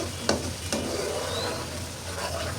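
Spice paste with cumin and garam masala is stir-fried in oil for a Bengali koi fish dish, a close steady sizzle broken by a couple of sharp scrapes from the spatula.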